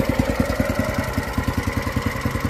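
A Briggs CR950 engine on a hydraulic-assist track barrow idles with a steady, even chugging pulse. It is close and continuous, with no talk.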